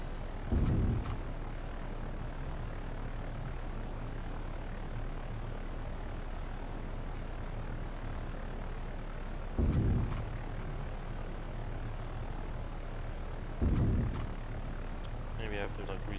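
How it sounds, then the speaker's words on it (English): Torpedo bomber engines drone as a constant low propeller hum in the naval battle game Victory at Sea Pacific, with a few louder bursts of impact or gunfire at intervals. "Torpedo bombers."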